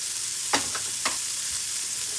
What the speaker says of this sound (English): dump our grits in there